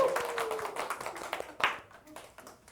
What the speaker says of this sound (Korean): 박수로 맞이하시겠습니다